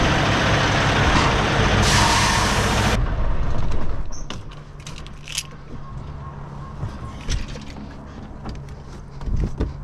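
International Lonestar truck hitching up to its trailer, with a loud burst of air hissing over engine rumble, then quieter metallic clanks and knocks against a low idling drone.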